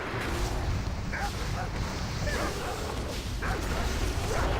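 In World of Warcraft's Scarlet Monastery, a dog barks and yips in short bursts amid a dense, loud wash of game noise, with no clear gaps of quiet.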